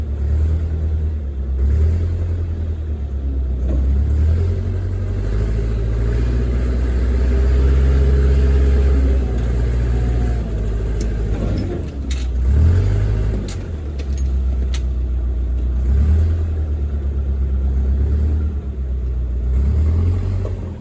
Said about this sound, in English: let's get the loader out